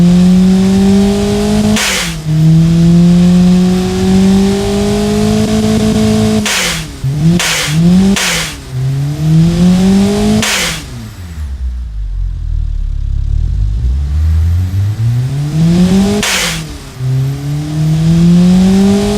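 A turbocharged Honda K24A4 replica engine in the Automation game revs up and down repeatedly, with loud rising sweeps, quick blips and one long drop to idle before climbing again, no speech.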